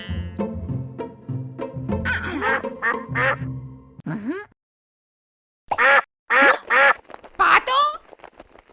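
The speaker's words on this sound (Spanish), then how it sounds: "Pato." A duck quacks in a children's animal-sounds program: a few quacks come early among other voiced sounds, then after a short silence a run of four loud, nasal quacks follows in quick succession.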